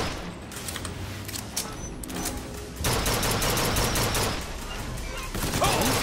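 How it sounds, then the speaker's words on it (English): A chain gun fires in BioShock Infinite as a sustained, dense rattle of rapid shots, loud and continuous, growing heavier partway through amid other combat noise. "Chain guns."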